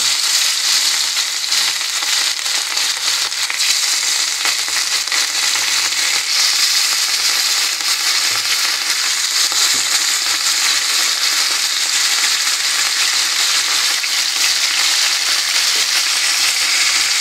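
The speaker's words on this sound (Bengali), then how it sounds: "এখন আমি বন্ধুরা মাছগুলিকে কড়া কড়াভাবে ভেজে নেব" Marinated rohu fish pieces deep-frying in hot oil, giving a loud, steady, dense crackle and sizzle that carries on without a break and with no voices.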